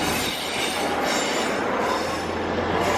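A train pulls away along the line at Doncaster, a loud, continuous rumble of wheels on track with high metallic squealing rising over it, close by and with no voices.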